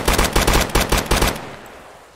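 Automatic gunfire in a video game raid comes as a loud, close, rhythmic burst of about eight shots over a second and a half, then quickly decays into a fading echo.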